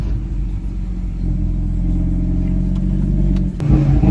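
An Audi RS3 8V in Sepang blue with 367 hp accelerates hard, its loud, aggressive engine building over a few seconds and briefly dipping before roaring again close by.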